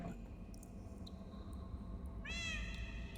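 A cat meows in the Minecraft video game, a single rising, harmonic call near the end, heard over a steady hum of game background noise.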